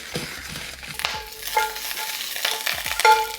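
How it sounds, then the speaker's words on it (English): Vegetables sauté in a good amount of olive oil in a pan over medium heat. The sizzle is close and uneven, broken by repeated scraping and stirring strokes and a few short metallic rings. "I'm gonna saute these first. Good amount of olive oil."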